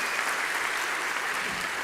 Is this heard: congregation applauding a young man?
yes